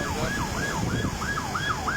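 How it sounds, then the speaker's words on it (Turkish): Ambulance and police sirens wail during a flood in İnebolu, Kastamonu, with a repeating rising-falling tone that is loud and continuous over a dense rumble of traffic and rushing water. "Ambulanslar, polisler."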